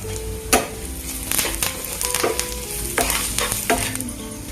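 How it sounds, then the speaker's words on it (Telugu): Onions and curry leaves frying in oil for a brinjal curd curry, with a loud crackling sizzle and several sharp spoon scrapes and knocks against the pan at irregular intervals. "ఆనియన్స్ అయితే బాగా వేగిపోయినాయి కదా, ఇప్పుడు కరివేపాకు వేసుకుందాం"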